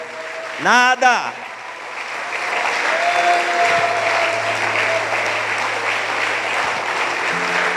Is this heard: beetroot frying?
no